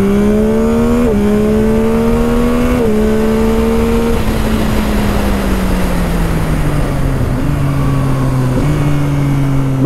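A 2022 Yamaha MT-09 motorcycle with a quickshifter accelerates hard through the gears, its loud, close engine note climbing. It dips sharply at each of several quick upshifts, and no one talks.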